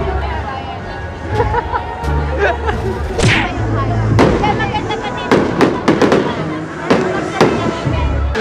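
Fireworks bursting during a musical fireworks competition at the Anilag Festival, with repeated sharp cracks and booms at irregular intervals over a continuous low musical bed and the murmur of a crowd.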